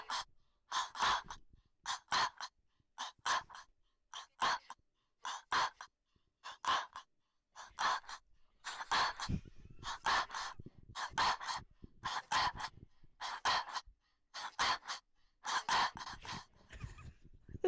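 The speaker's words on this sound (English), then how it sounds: "Yes, I breathed into a mic for that long." Breaths recorded close into a microphone, a long series of sharp airy inhales and exhales in an uneven rhythm with short gaps between them, some breaths noisier and rougher than others.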